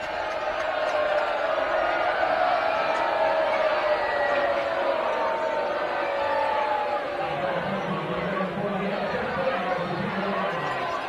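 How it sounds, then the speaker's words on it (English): Crowd in the stands at a high school football game at American Fork, Rigby versus American Fork, a dense steady murmur of chatter and distant cheering filling the whole stretch without a break. "This is quite the crowd here at American Fork."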